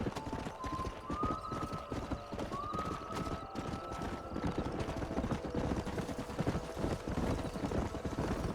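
Horse hooves gallop in a steady, fast clip-clop rhythm in the Red Dead Redemption video game, loud and continuous, with a brief whinny-like tone early on.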